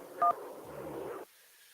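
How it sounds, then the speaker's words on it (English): One brief dual-tone phone beep sounds as a caller is put through on a radio call-in line, followed by a second of soft line hiss that cuts to near silence. "Let's go back to the phone lines."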